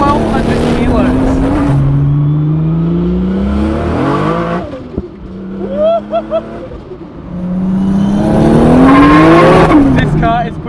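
A 600 hp Holden Commodore VL Turbo with a Nissan RB30 engine and a Garrett 3582 turbocharger, weighing 1200 kg, revs and accelerates hard through repeated rising pulls and gear changes, loud and close throughout.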